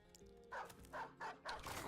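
A dog in Battle Brothers yelps as it is taken down in combat, four short sharp cries in quick succession, fairly close and moderately loud.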